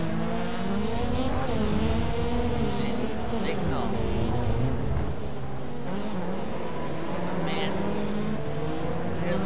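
Rallycross race cars in the iRacing game roar continuously with shifting engine pitch and occasional tire noise, under excited commentary from announcers throughout.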